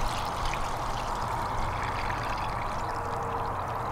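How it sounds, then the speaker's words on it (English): Water is poured steadily into a container holding magnetite material, a continuous close rushing and splashing pour that lasts throughout without pause. "So now we'll go ahead and pour the water in this one where I remove the magnetite."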